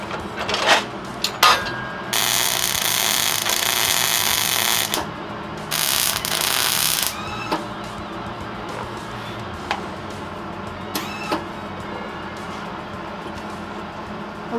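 Wire-feed welder burning in welds on a car hauler trailer, a steady crackling hiss in two short bursts of a few seconds each, followed by quieter clanks and handling sounds.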